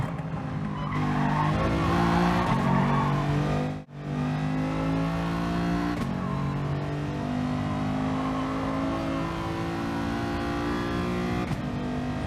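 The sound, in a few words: race cars driving in Gran Turismo Sport video game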